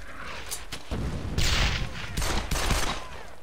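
A grenade blast in the World War II shooter Brothers in Arms: Hell's Highway, a loud close boom amid crackling rifle and machine-gun fire, with several sharp shots around it.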